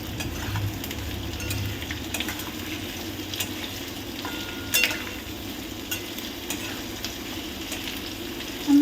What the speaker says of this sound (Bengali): আমরা এগুলো একসাথে 3 থেকে 4 মিনিট একটু হাই ফ্লেমে ভাজতে থাকবো।